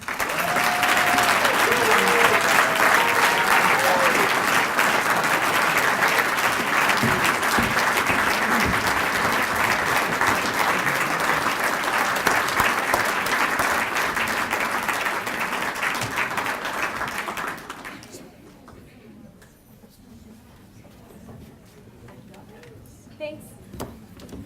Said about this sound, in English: One more round of applause for Lauren Provost Life.